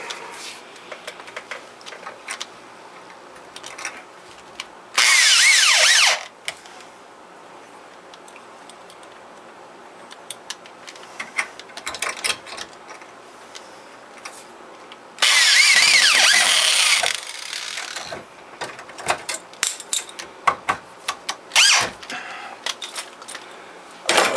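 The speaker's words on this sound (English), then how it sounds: "Stick another screw in that one." A power drill drives screws into spline roadbed in a workshop, with two long, loud whirring bursts and a shorter third, separated by quieter handling clatter and small knocks.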